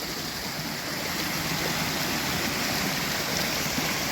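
Creek water rushing on a rainy day, a dense, steady broadband wash that stays loud and close for the whole stretch, with no voices over it.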